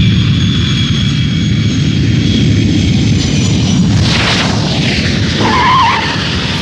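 An aircraft lands on a runway in an animated film, with a loud, continuous close jet roar and a tyre screech near the end, and no talking.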